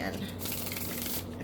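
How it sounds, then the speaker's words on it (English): Tarot cards being shuffled by hand in a steady, soft papery riffle, close and continuous at low volume with a faint hum beneath. "I did shuffle these again, but I'm going to do them again."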